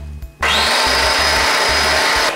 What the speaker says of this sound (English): Mix it in your food processor